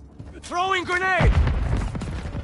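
A grenade blast in Modern Warfare III lands as a loud, broad boom about halfway through, and its rumble carries on to the end. A voice talks over the start.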